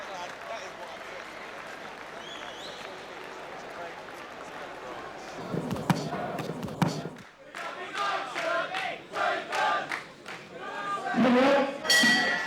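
Boxing crowd roaring after a flyweight knockout: steady arena murmur builds into loud, surging cheers with thuds and shouts, a commentator's voice heard over the din.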